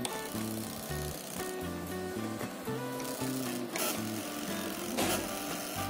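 The Y axis of a 3D printer fitted with PLA-printed parts runs with stepper-motor whines that shift pitch in short steps, a continuous mechanical buzz with occasional louder clicks.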